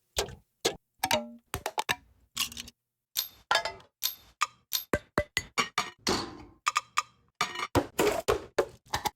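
Short, dry percussive snaps repeat in a quick, uneven rhythm with brief silences between hits, sounding like a crisp wooden click sample.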